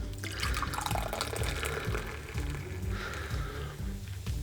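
Coke Zero is poured into a glass and fizzes, a soft liquid trickle with crackling, spattering bubbles that rise and settle across a few seconds, close and fairly quiet.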